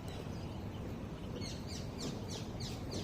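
Birds chirp faintly in a rooftop garden, a few quick, high tweets repeating in the latter half over a steady low background murmur.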